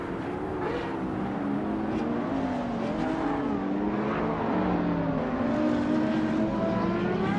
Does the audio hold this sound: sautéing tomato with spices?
no